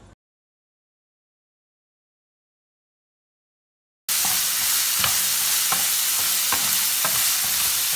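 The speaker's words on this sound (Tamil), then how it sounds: "வெங்காயத்தை போட்டுக்குவோம். வெங்காயம் நல்லா வதங்கட்டுங்க." Onions sauté and sizzle in a hot pan for South Indian drumstick thokku, a steady loud frying hiss with periodic stirring scrapes, after a few seconds of silence.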